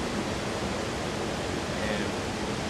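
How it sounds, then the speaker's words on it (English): Water rushes over the Bears Mill dam, a dense, continuous roar that holds at a steady, fairly loud level throughout with no breaks. "what this dam's doing is it's causing white noise in the background"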